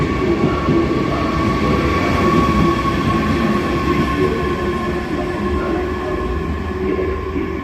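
A train rumbles steadily along a platform at Heidelberg main station, loud and close, with continuous wheel roar and faint squealing tones throughout.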